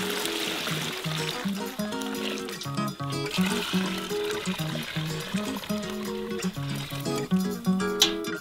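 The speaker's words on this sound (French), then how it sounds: "Remettez le chaudron propre et remplissez le bouillon déjà propre." Clean fish broth poured into a cauldron for an 18th-century royal fish soup, a continuous trickling stream of liquid heard under a steady musical backing that carries through the whole stretch.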